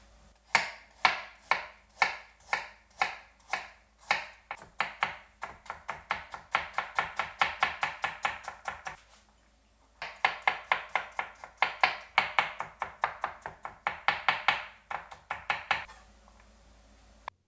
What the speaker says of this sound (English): Next, let's cut up our ginger and garlic.